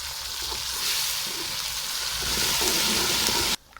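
Chopped green garlic, ginger and green chilli sizzle in oil with browned onion, a steady loud frying hiss that cuts off abruptly near the end.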